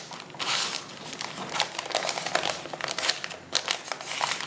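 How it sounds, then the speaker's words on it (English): Tape is pulled and torn off a roll and pressed onto a journal, with close bursts of crinkly, ripping noise in uneven spurts and no talking. "I'm going to put a piece of tape there"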